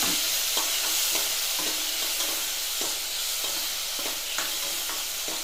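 Tomatoes and radish sautéing in oil in a pan, a steady close sizzle with periodic stirring scrapes and clicks of a spoon against the pan, no voices.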